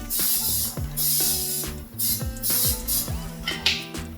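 Several short hissing bursts of an aerosol cooking spray onto a baking sheet for cookies, with mechanical clicks and background music underneath.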